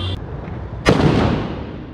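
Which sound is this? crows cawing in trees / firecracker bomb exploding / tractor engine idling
firecracker bomb exploding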